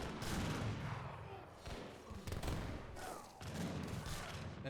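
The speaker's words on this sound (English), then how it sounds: "Look at these cannons go." Cannons in the Age of Empires video game fire in rapid, overlapping volleys, booming and crackling in dense bursts with brief lulls between salvos.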